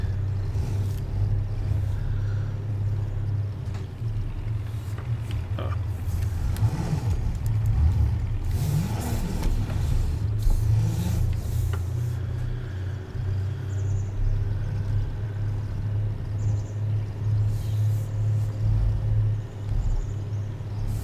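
A truck engine in Farming Simulator 19, a steady low rumbling drone with faint revving swells in the middle while driving, continuous and close for about twenty seconds, with no talking.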